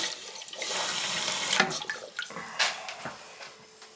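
A toilet tank refilling after a leak repair sends a steady hiss of rushing water close by, with a few gurgles and drips as the flow tapers off.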